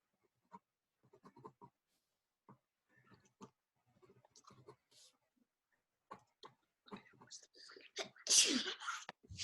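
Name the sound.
sneeze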